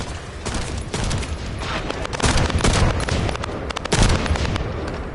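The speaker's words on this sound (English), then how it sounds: "That stopped the gunfire." Dense, rapid gunfire crackles continuously, with sharper bursts and booms layered over a constant roar of shooting in a battle in the game The First Descendant.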